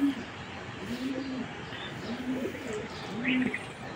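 Frightened pigeons coo softly in a repeating rhythm, about one low, throaty call per second, with faint chirps from other birds in the background.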